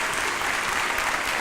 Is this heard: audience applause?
yes